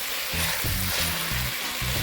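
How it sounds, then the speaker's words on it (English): Penne with vegetables, squash and tomatoes frying in a pan, a steady close sizzle with soft rhythmic scraping from stirring running throughout. "I'm going to give this a stir"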